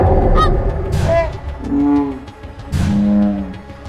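A goose honks several times, loud and close, with a few drawn-out nasal calls standing out over rough background noise.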